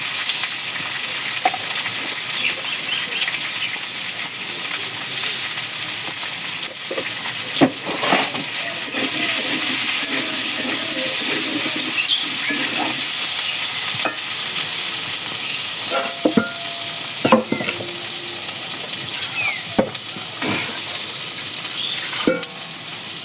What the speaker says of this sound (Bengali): লবণ দিয়ে ভেজে নিই।